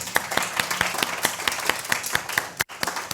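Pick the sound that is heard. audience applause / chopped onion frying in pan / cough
audience applause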